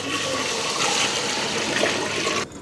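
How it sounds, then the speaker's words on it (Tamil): Water pours steadily into a pot while sambar is being cooked, making a rushing stream close by that cuts off abruptly at the end. "இப்போ தண்ணி ஊற்றிடுவோம்"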